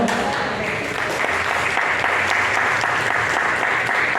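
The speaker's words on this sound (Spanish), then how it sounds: "Un aplauso al Señor." A church congregation breaks into steady, full applause during an evangelical service, dense continuous clapping filling the space for several seconds without pause.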